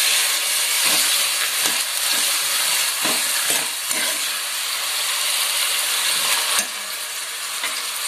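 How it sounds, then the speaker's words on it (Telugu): Chicken curry ingredients fry in a pan with a bright, continuous close sizzle, broken by repeated scraping stirs and clatters of a spoon against the pan. "ఇవన్నిటిని బాగా ఫ్రై అయితే చేసుకుందాం."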